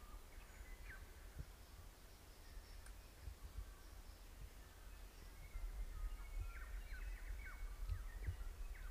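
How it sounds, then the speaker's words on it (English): Faint bird calls and chirps scattered through a quiet outdoor bush setting in New Zealand, several birds calling intermittently at a distance over soft background hiss. "Man, the bird life is crazy."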